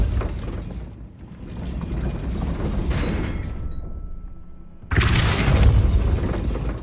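Depulso force spell cast in Hogwarts Legacy, a rumbling, mechanical whoosh that builds for several seconds, then a sudden loud burst with crackling debris near the end.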